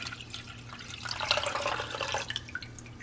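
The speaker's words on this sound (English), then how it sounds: "So I am gonna go ahead and put 4 cups into this pot" Four cups of water poured into a pot in a home kitchen, a steady splashing and trickling stream that swells in the middle and then tapers off with a few drips.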